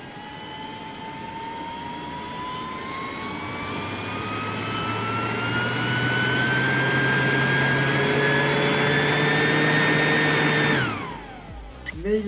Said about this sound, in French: Il s'agit en réalité d'une énorme turbine.